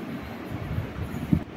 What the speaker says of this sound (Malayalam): ഇതേ നമ്മുടെ അടുത്ത മൈസൂർ എക്സ്പ്രസ് ആണ് ഈ ക്രോസ് ചെയ്ത് പോയത്